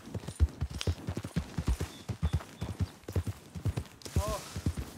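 Horse hooves clip-clop in Red Dead Redemption 2, a quick, even run of close, loud hoofbeats throughout, with a brief whinny near the end.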